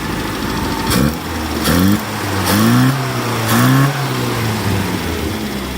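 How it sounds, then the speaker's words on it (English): A small engine revved in four quick blips, each rising in pitch and falling back to a steady idle between them, close and loud with no talking. "Give it a little rev."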